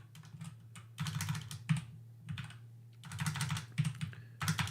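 Typing on a new computer keyboard, close and quiet, in uneven bursts of rapid key clicks separated by short pauses, with a low steady hum underneath.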